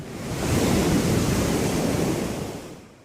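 Sea waves wash ashore in one soft, swelling rush of surf that rises and fades over a few seconds, moderately faint with some wind, and no voices.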